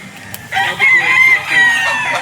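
A big bulik gamefowl rooster crows on a farm in Norzagaray, Bulacan. It gives one long, loud, close crow in two drawn-out rising and falling phrases over faint background noise.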